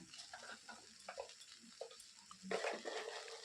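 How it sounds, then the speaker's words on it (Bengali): Flattened rice (poha) being stirred and mixed in a pan, soft scraping and rustling strokes at a quiet level, with a louder burst of mixing toward the end. "এবার এগুলোকে আমি এইভাবে মিশিয়ে নিলাম"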